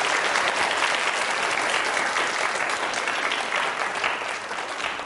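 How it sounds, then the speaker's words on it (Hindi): A studio audience at a Ramadan special quiz show breaks into loud, sustained applause, a thick, continuous roar of clapping that stays steady for several seconds before easing slightly at the close. "तालियां जोरों से बजाइए,"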